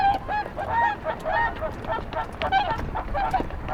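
Whooper swans in Suncheon Bay trading loud, bugling honks as a father swan drives off an intruding stray male, the calls repeating in quick overlapping bursts close by.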